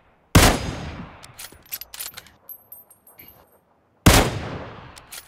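Two loud, sharp gunshots in a battle royale video game, several seconds apart, each followed by a rattling echoing tail and scattered mechanical clicks.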